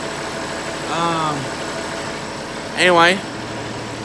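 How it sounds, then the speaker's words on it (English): A tractor sits running at idle, a steady low engine rumble that carries under a man's brief speech throughout. "here is this tractor sitting here running"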